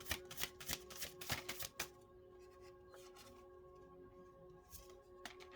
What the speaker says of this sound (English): pull a few more cards